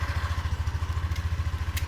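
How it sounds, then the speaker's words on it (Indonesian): A Yamaha NMAX 2020 scooter engine idles close by with a steady, rapid rhythmic putter and a faint click near the end. "Nah, di sini mesin baru menyala."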